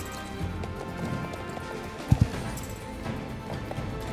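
Horse galloping in a horse racing video game: steady muffled hoofbeats under a continuous game soundtrack, with two sharp thuds close together midway.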